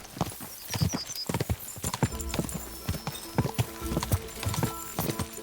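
Horses gallop in a race in Kingdom Come: Deliverance II, with rapid clip-clop hoofbeats, a brief whinny and a lively game soundscape, close and fairly strong.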